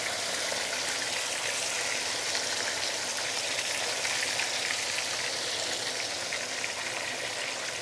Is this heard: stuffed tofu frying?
yes